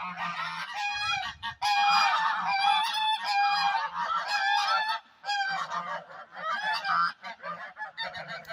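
Several ducks in a fenced yard call in loud, close honking bursts, with short pauses between the rounds of quacking.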